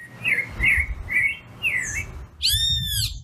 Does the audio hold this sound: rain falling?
no